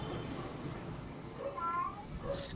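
A pet cat meowing indoors, a few short, fairly faint mews heard over low background noise.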